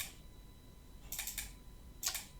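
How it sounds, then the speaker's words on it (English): Mouse clicks on a downloaded file on a computer: a quick pair of sharp clicks just past one second and another click about a second later, close and crisp over a quiet room hiss. "We'll just click and double click on it"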